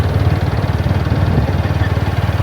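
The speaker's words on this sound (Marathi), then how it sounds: "पंजाबच्या रस्त्यावर मोटरसायकलचा प्रवास" A motorcycle engine drones steadily while riding along a road in Punjab, a low, even rumble with a fast pulsing throb and no talking.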